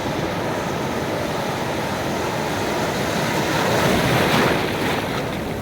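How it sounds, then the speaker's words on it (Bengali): Big sea waves roll in and crash on the beach at Cox's Bazar, a steady loud roar of surf with wind buffeting the microphone, swelling toward a heavier break near the end. "বিশাল বিশাল ঢেউগুলো তেড়ে আসছে"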